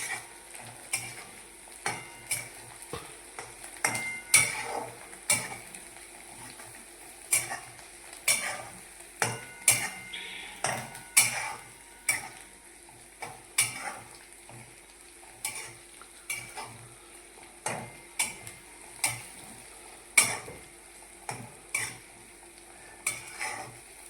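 Garlic, ginger and chili paste roasting over low heat in a pan, a soft sizzle beneath a steady rhythm of spoon scrapes and taps against the metal, close by with no talking.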